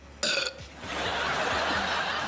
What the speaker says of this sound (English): does the subject burps ring a bell with you?